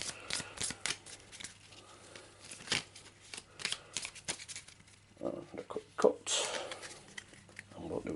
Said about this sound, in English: pulling out the map deck. So let's give that a quick shuffle.